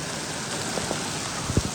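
Heavy rain pouring down, a dense and constant wash of falling water with a few sharper drip and splash hits near the end, steady and close with no voices.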